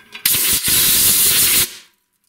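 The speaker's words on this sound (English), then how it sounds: "I'm just going to air blow all the metal shavings." A close, loud burst of compressed air blasts metal shavings off a snowblower auger after rusted shear pin holes are drilled, a hard hiss lasting over a second with a brief break near the start.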